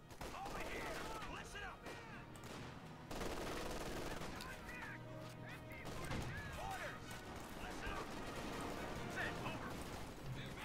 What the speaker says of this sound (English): Do we have an MG42 guarding?